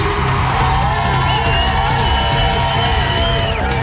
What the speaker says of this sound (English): The D3 crowd, I can tell they're getting a little rowdy